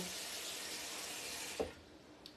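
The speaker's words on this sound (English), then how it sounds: "we'll start running some water on that now" Water running from a kitchen tap, a steady faint hiss of flow that lasts the whole stretch, broken by a brief clunk near the end.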